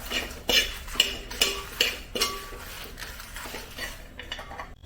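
Grated coconut is stirred and roasted in a pan for homemade chammanthi podi, with a spoon scraping and clinking against the metal in several sharp strokes, close and dry, no voices.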